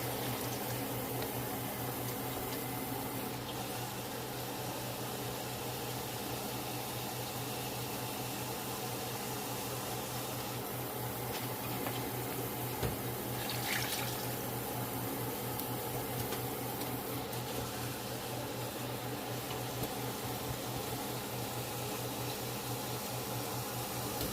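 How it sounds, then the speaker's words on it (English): Hot water poured into a cooking pot of seasoned food: a continuous loud rushing, bubbling flow lasting throughout, close to the microphone with no talk. "Now I'm going to add my hot water."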